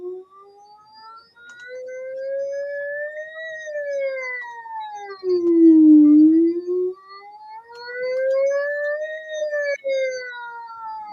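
A single voice imitates a siren, gliding smoothly up and down in pitch in long wavering sweeps, sustained and fairly loud with no other sound.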